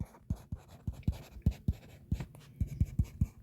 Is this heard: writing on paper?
yes